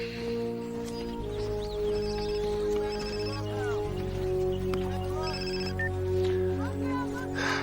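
A telephone rings in short repeated bursts of bright electronic trills over a sustained musical score with a steady tonal bed, the ringing clear and fairly close in a dramatic indoor scene.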